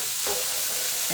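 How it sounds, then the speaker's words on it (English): Rice being stirred around a hot pan for veggie fried rice with tofu, a steady close sizzle with a few scraping stir strokes, no voices. "So we're gonna add the rice in there. And now it's time to stir it around."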